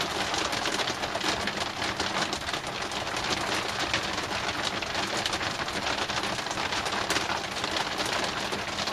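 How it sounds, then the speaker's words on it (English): Heavy rain falls outside, a loud, continuous hiss of drops pattering on surfaces without a break, with no voices over it. "Boy, it's really raining out there pretty good."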